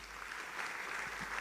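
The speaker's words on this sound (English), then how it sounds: "Big round of applause for Governor of West Java, Bapak Ridwan Kamil" Steady, dense applause from the audience at an investment summit, a brief continuous wash of clapping at even loudness with no voices over it.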